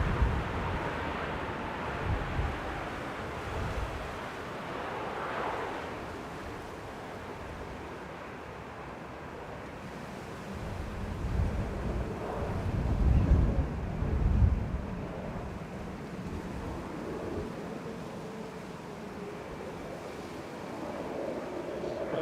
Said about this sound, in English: Wind.